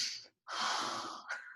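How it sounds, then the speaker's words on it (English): A deep breath drawn in with a sharp intake, a brief pause, then a long airy exhale and a small final puff, close and fairly soft, no words spoken. "Take a deep breath."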